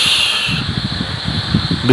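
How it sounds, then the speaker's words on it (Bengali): Strong wind sweeps across a wide open field by a river, buffeting close in with low rumbling gusts under a constant airy hiss. "প্রচুর বাতাস"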